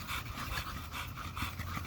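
An American Bully dog pants close up, a rapid steady rhythm of short breaths repeating throughout with no voices.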